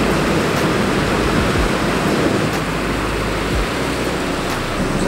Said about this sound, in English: Just gonna wait for waves to come in and then shoot that.